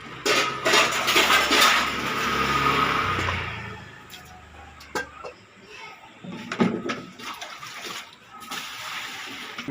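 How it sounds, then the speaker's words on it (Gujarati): Dishes being washed with running water: splashing water and clinking utensils close by for the first few seconds, then scattered clatters of pots and dishes, with a voice heard at times. "સુનિતા તો કાઢે છે વાસણ કરવા."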